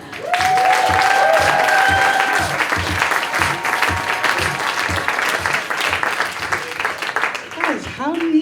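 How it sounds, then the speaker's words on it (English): A comedy club audience greets a comedian with loud, sustained clapping and cheering, a dense wave of applause that slowly tapers off over several seconds. "make a lot of noise for Mr. Sid Singh"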